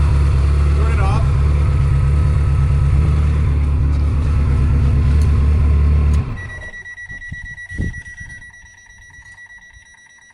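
A car engine idles roughly and misfires with a loud, uneven, stuttering low throb for about six seconds before cutting off. Quieter handling noises and a brief knock follow.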